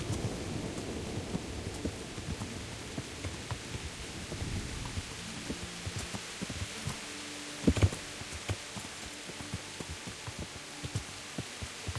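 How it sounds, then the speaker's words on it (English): Steady rain from a thunderstorm in Kingdom Come: Deliverance, with a low rumbling wash early on, then sparse drips and taps and one sharper burst of noise midway, fairly faint throughout with no talk. "Some storm."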